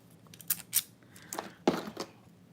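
Arts and crafts scissors cutting wig lace, a series of four or five short crisp snips in an uneven rhythm, close and quiet with no talk.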